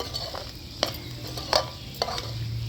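Chicken fry with coriander powder being stirred in a pan over a wood-fired stove, with a low sizzle and three or four sharp spoon clinks against the metal.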